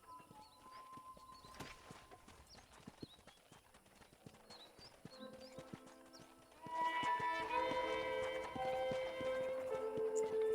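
Horse hooves clip-clop steadily at a riding pace in the Wild West game Red Dead Redemption, with birds chirping early on; after about seven seconds, louder music swells in over the hoofbeats.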